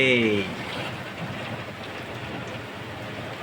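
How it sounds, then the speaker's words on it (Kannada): Rain patters steadily close by on a farm field being levelled, a broad even hiss, briefly overlapped at the start by a voice before the rain continues alone. "ಮಳೆ ಬಂತಲ್ಲ ಗುರು"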